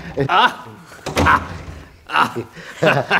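A door is pushed shut with a dull thud while people talk close by, the bump mixed in among their voices.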